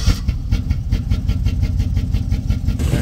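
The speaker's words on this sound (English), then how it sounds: "you got your vats deleted, your vehicle should start" An LS-swapped Chevy engine after a VATS delete, running with a steady, loud, rumbling idle and rhythmic low pulses throughout, close by with no talking.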